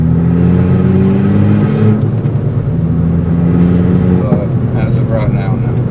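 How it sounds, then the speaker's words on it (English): Steady engine drone and road rumble inside a moving car, loud and continuous, with a person talking over it. "I know my car is generally loud"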